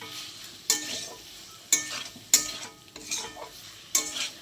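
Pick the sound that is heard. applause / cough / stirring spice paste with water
stirring spice paste with water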